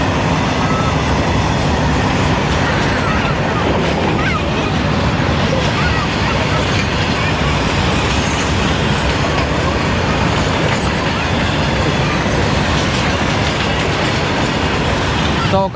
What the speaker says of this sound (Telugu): ఆ లైన్ మీదకి అయితే ఇంత ఫాస్ట్గా వెళ్ళిపోతుంది ట్రైన్.